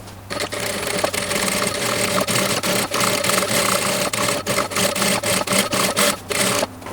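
A sewing machine stitches around the brim of a fabric sun hat with boning, running in a rapid, steady mechanical whir broken into short bursts by brief stops, close and clear with no talk.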